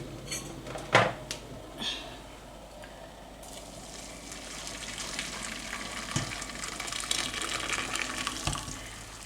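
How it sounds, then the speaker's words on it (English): Freshly boiled water pours into a pot holding two packs of barbecue-flavour instant noodles, a splashing, hissing stream that builds and sizzles steadily over several seconds, heard close with no talking. "There goes the water. The water is boiled."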